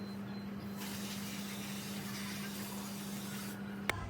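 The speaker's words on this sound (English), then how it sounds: "I'm gonna again spray brake cleaner inside and just give it a nice wipe" Brake cleaner hisses in a continuous spray onto the front brake caliper of a Triumph Tiger 1200 motorcycle during a pad change, steady and close, ending with a sharp click.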